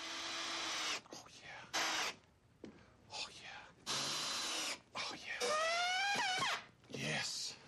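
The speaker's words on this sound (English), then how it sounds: "Brian really enjoys screwing his timber wall." A power drill drives screws into a timber wall in short, whining bursts, its pitch rising and falling as each screw sinks, with pauses between runs.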